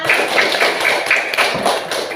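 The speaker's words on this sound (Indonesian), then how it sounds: "Bagus semua, tepuk tangan semua." Steady applause from a group of children in a classroom, many hands clapping together in a dense, continuous patter with a few louder bursts.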